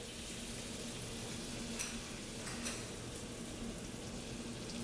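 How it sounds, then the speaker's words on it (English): Butter sizzles in a very hot pan before fish fillet goes in, a steady soft crackling hiss throughout, fairly quiet and with no talking. "I'm going to add a little bit of butter to this pan."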